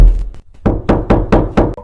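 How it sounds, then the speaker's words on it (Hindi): Knocking on a house door at night: a few light taps, then five loud, evenly spaced heavy knocks close by. "रात को फिर से ठीक 2 बजे कोई उसके घर पे दस्तक देता है।"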